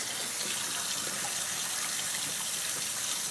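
Water runs steadily from a kitchen tap into a pot of cut potatoes. It is a constant, close, splashing gush with no voices over it.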